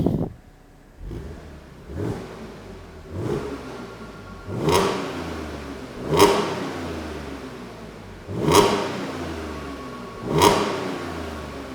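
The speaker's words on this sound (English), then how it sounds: "But let's give it a rev, see what we've got." A manual Audi S4 on its standard factory exhaust is revved in a series of about seven sharp blips, each rising quickly and falling away, close and fairly loud with idle between.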